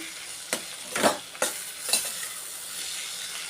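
A spoon stirs dosakaya dry fish curry in a sizzling pan, making four quick scraping strokes close by over a soft, continuous fry.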